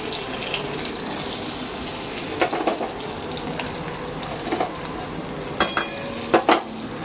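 Oil sizzles steadily in a pan as poha is tempered, with a few sharp clinks of stirring near the end.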